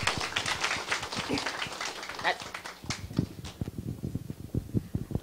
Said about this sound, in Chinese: 请热烈的掌声欢迎他